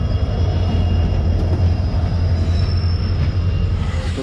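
A passenger train at Fakiragram railway station rumbles steadily and loudly, with a continuous low wheel roar and faint metallic squeal throughout, no voices.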